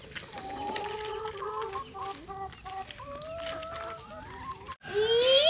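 Several chickens cluck and chatter nearby in overlapping bursts, ending with a sharper, louder squawk.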